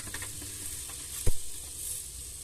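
Strips of cooked soy frying in a pan with goulash seasoning, a steady hiss and sizzle with light stirring scrapes and one brief clunk midway.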